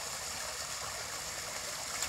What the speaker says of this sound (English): There's just so much water coming off that thing right now,